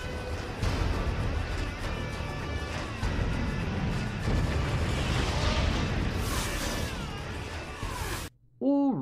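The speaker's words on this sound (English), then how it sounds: "judging by the explosion in the distance in this shot" A distant explosion from the film 300, set on a battlefield where grenadiers detonate a massive pile of grenades, rumbling as a dense, sustained roar with crashing debris that cuts off abruptly near the end.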